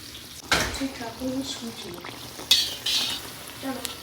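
Pitha frying in very hot oil, with a steady low sizzle and bubbling under clinks of a utensil stirring in the pan, and someone speaking over it.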